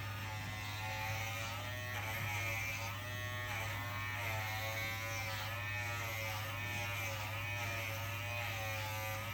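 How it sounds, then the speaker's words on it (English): Electric grooming clippers buzz steadily and closely as they run along the neck of a cocker spaniel puppy, a continuous hum with slight wavering as the blades move through fur. "these clippers are actually very quiet, but I know on a video, for some reason it amplifies the sound"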